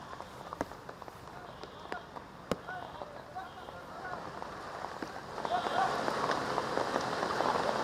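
Heavy rain falls in Bengaluru, drumming steadily on surfaces with a dense, noisy patter that swells louder toward the end. A few sharp knocks and faint voices sit underneath.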